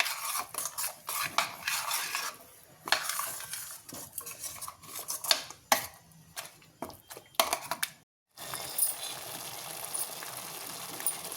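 Masala spices are fried in oil for a cashew paneer curry. A spoon scrapes and clatters steadily against the pan, up close, with a brief pause before the stirring resumes.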